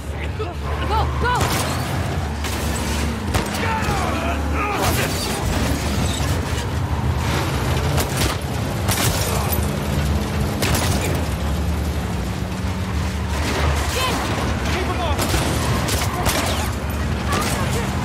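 Rapid bursts of gunfire and booming impacts from The Last of Us Part 2 game, dense and continuous, mixed with mechanical clatter and game sound effects.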